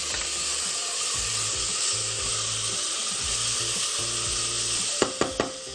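Onion and red tomato sauce sizzle steadily in a hot pan, a dense continuous frying hiss close by, with a few sharp clinks of a utensil near the end.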